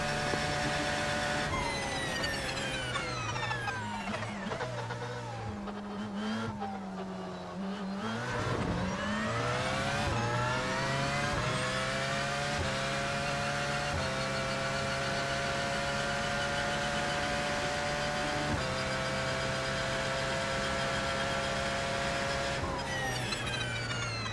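Several race car engines in the iRacing sim, a Porsche 911 lapping Monza in a six-hour endurance event, whine loudly and continuously, pitch climbing and dropping through gear shifts and a braking dip before pulling up again.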